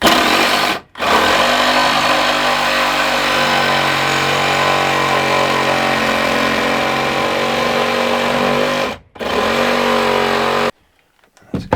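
Power tool cutting through drywall and into a 2x4 during home renovation, a loud continuous whining motor drone that cuts out briefly twice and stops near the end, no talk.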